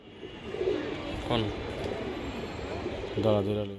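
Jabra and other high-flying racing pigeons give two low, throaty coos near the middle and end, close by over a steady murmur of background noise.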